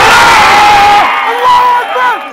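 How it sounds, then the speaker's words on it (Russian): Fight fans in the arena erupt in loud cheering and whooping after a technical knockout at an M-1 Challenge lightweight title bout. The crowd roar is close and dense, then breaks into scattered shouts. "В этот момент болельщики не могли сдержать эмоций."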